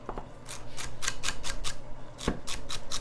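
A chef's knife slices through a row of lined-up vegetables on a cutting board, making about a dozen crisp, quick rhythmic chops close by, with a slight pause before the final run of cuts.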